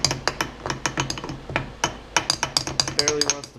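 A hammer taps repeatedly on metal while a part on a 2004 KTM 125SX motorcycle engine is flattened during a bottom end rebuild, giving close, sharp, irregular strikes with brief pauses between them.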